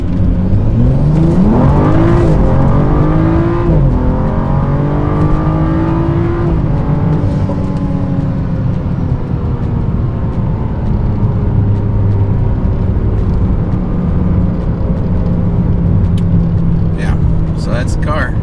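BMW F30 with an xHP-flashed transmission accelerating on the road, engine note rising through gear changes and settling into a steady cruising drone, heard from inside the cabin with windows up.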